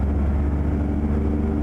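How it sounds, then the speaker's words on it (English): A heavy truck engine in American Truck Simulator, floored while driving, sets up a steady low rumble with a faint tonal hum that holds constant and close throughout, with no talk over it. "I can actually hear your truck now."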